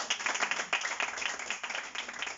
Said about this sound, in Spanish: Dale un aplauso, Señor.